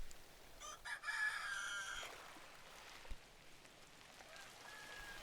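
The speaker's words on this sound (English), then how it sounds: "The roosters are still calling," A rooster crows once, clear and moderately close, then faint calls trail off in a quiet outdoor setting.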